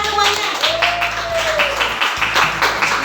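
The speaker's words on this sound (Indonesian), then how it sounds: "Tepuk tangan semuanya." A group of teachers applauding together, a dense burst of hand clapping close by, with voices talking over it.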